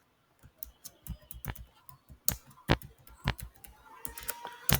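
Typing on a computer keyboard in Microsoft Word: irregular bursts of quick, close key clicks with short pauses between words, fairly quiet with no talk.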